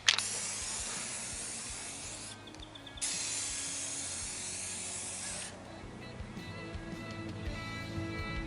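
A spray can lays clear coat onto a cheap marketplace truck in steady, close hissing bursts that stop briefly and restart, with the sound shifting toward the end.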